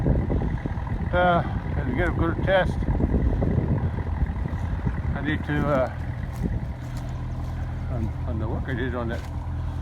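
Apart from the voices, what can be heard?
tractor engine running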